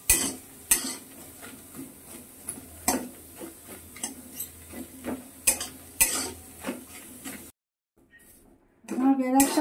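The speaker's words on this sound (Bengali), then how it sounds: "বেরেস্তাটা তেল বিহীন ভাজছি তো, ওই জন্যে আস্তে আস্তে ভাজতে হবে" Onions frying without oil over low heat in a kadai for chicken biryani, with stirring scrapes and utensil clatter repeating throughout, ending in a brief silence and then a louder burst.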